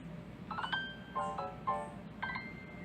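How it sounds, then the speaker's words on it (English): A few short, faint electronic chimes sound in quick succession over a low background hum. "Sorry, a notification come through."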